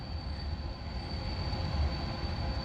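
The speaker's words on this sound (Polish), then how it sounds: "Odjeżdża pociąg Mieszko Bis do stacji Łódź Kaliska z Gdyni Głównej" The Mieszko Bis passenger train leaves Gdynia Główna station with a steady rolling rumble and a thin sustained wheel squeal, continuous and moderately close with no voices.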